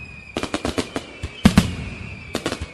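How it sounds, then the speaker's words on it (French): Firecrackers go off at a festival celebration in Cotonou, Benin, a quick run of sharp cracking pops followed by a couple of louder bangs and a final short burst, heard from a moderate distance with no talking. "Parce que les pétards, pour moi, c'est ça qui signale la fête."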